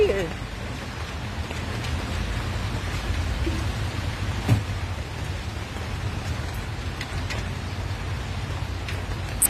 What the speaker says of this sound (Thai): บรรยากาศฝนตก